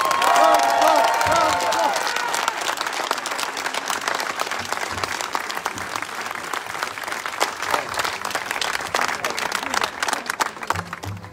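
Dense crowd applause with scattered cheers fills an outdoor victory rally for a re-elected mayor in Cesa, Italy. A voice rings out over the clapping at the start, then steady loud clapping continues throughout.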